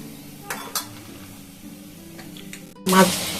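A layered paratha frying in oil as a ladle spoons oil over its center. A few utensil clinks come first, then a loud sudden burst of sizzle near the end.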